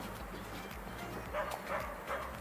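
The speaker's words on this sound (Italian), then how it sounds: "c'è un cagnolino lì giù che non smette un attimo da abbaiare" A small dog barks nearby in short, high yapping bursts, a few quick repeated barks over a low background hum, fairly faint overall.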